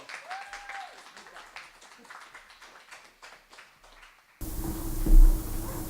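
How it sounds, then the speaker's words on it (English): Audience applause for a comedian being welcomed to the stage at a spoken-word night, moderate clapping that thins out before an abrupt louder noisy section. "Big round of applause"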